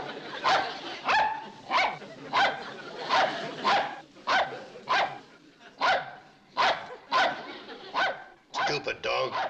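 A dog barks repeatedly in a steady rhythm, about a dozen sharp barks close by, with a rapid burst near the end.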